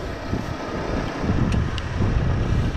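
Strong wind over an open hay field buffets the microphone with a steady, loud low rumble and gusty roar throughout, with no voices.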